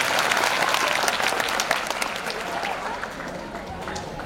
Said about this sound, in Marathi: त्यानिमित्त आपण टाळ्या वाजवून, अरे टाळ्यांचा कडकडाट कमी होतो आहे.